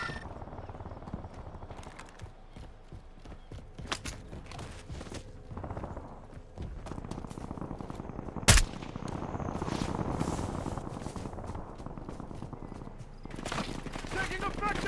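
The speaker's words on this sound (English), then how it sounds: "Taking effective fire." Scattered gunfire in Call of Duty Warzone battle royale on Verdansk, with one sharp loud crack standing out midway among repeated bursts and ambient battle noise, while a radio-style voice talks over parts of it.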